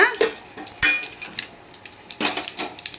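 Chillies and turmeric stirred in a pan for pepper rasam, with spoon scrapes and metallic clinks against the pot, close and irregular, with a louder clatter near the start and end.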